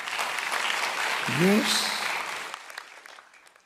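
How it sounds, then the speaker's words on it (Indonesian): Church congregation applause at a sermon, a broad wash of clapping with a brief voice calling out over it midway before the clapping thins and fades. "Tepuk tangan yang keras."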